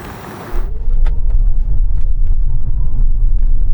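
A range-topping four-wheel-drive Hyundai Ioniq 9 electric car with 427 horsepower launches in eco mode, giving a low rumbling surge of road and tire noise that builds right after a short quieter moment.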